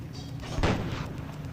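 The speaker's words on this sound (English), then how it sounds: "let's see if we can take a shot at one more tank" Tank cannon firing in the game Armored Aces, a single loud, close boom with a short rumbling tail over steady engine drone.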